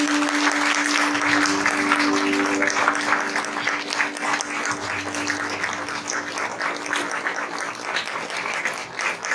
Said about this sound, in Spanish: Dale un aplauso, iglesia